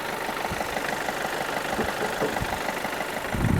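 A Hyundai Verna diesel CRDi engine idles with the bonnet open, giving a steady, close, mid-loud rumble with a faint knocking texture. It swells slightly at the end, and no one speaks over it.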